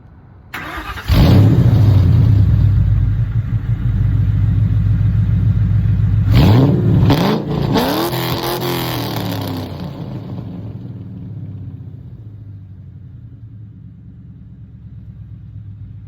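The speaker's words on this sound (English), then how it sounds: "you're going to see me start the car and rev it" A 1999–2004 New Edge Mustang GT V8 with long-tube headers cranks and fires, settles into a loud, deep idle, then takes several sharp revs that rise and fall before returning to a steady rumbling idle, close by with no talk.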